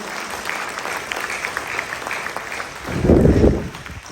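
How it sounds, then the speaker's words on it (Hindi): A crowd at a Hindi-speaking motivational gathering breaks into loud applause, a burst that swells near the end and rises above a steady murmur of background noise. "उनके लिए मैं एक बार जोरदार ताली चाहता हूँ"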